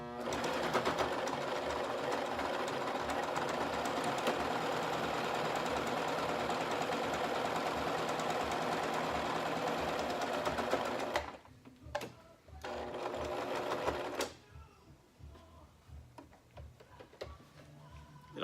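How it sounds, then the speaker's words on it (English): A sewing machine runs steadily with a loud, continuous mechanical whir, then stops and starts in short bursts before falling quiet. "we hope that we don't break your sewing machine"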